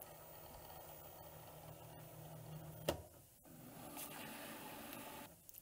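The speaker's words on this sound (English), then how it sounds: "Hit the load button, and then the machine will take care of the rest." A Cricut cutting machine loads and measures material for a custom tote bag, giving a steady mechanical motor whir with a sharp click near the middle, a brief pause, then the running hum resuming.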